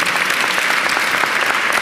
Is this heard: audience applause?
yes